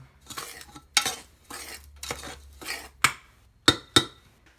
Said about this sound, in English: Got to mix it well.